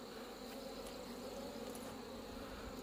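Honeybees buzz at a hive in late September, with robber bees drawn in, making a dense, continuous drone of many insects. It is faint and even, and no one speaks.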